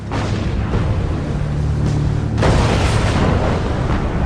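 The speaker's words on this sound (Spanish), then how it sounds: "Hacen más de 600 disparos con sus cañones de 12 centímetros." Heavy, continuous naval cannon booms from 12-centimetre guns and explosions, loud and rumbling, with a sharp new blast midway adding to the roar.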